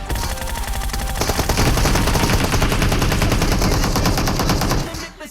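Sustained rapid gunfire in a video game, shots hitting a railing, loud and close, a dense burst that runs for several seconds before cutting off abruptly.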